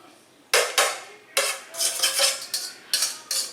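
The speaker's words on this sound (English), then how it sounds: "Step number 2-ish is to transfer this into the skillet." Pulled beef is moved into a skillet in a series of loud, close metallic clatters and scrapes, about seven bursts separated by brief near-silent gaps, with no one speaking.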